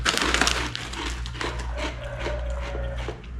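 A crispy, toasted, slightly spicy homemade Filipino dried shrimp snack crunches up close, a dense run of brittle cracks and crumbles, loudest at the start and easing into steadier chewing over a low background hum.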